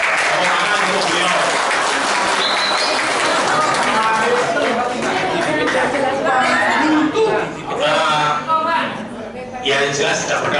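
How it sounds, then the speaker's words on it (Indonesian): Clapping from a gathered audience at an educational staff meeting at UINSA, mixed with crowd chatter, fairly loud and continuous with a short dip partway through before picking up again. "Tepuk tangan untuk beliau."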